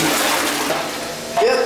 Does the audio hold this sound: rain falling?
no